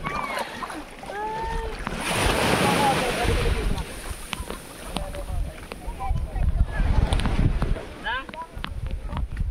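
A boat moves across open water, with splashing, wind, and a low motor rumble; people talk and shout over the noise.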